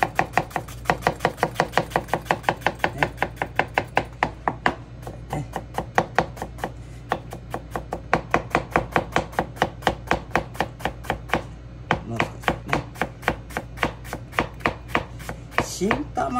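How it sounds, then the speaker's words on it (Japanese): A new onion being minced with a knife on a cutting board, a fast, even run of crisp, close chops that keeps going throughout with only brief pauses. "じゃあみじん切りいきますよ"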